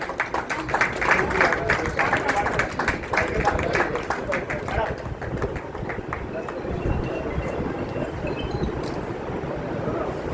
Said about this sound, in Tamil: நல்ல கரகோஷம் கொடுங்கப்பா